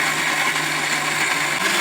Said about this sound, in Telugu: మిక్సీ బంద్ చేసుకున్నాండి మెత్తగా గ్రైండ్ అయిపోయింది